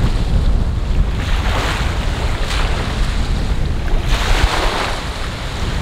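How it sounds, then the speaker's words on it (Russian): Strong waves of the Caspian Sea crash and wash continuously with heavy wind buffeting the microphone, a loud, dense roar with no voices. "Но сильные волны, холодное и ветер."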